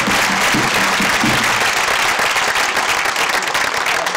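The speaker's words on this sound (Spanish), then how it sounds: "si le damos un aplauso" Loud, dense applause from a crowd at a tamborileros contest in Guadramiro, continuous broadband clapping filling the whole stretch with a faint murmur underneath at the start.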